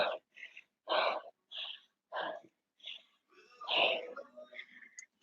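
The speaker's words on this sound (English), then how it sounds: "I'm sorry that you can just hear my breathing right now." Heavy, labored breathing during a strength workout: a run of loud, rhythmic breaths and gasps with short pauses between, close to the mic, with no speech over it.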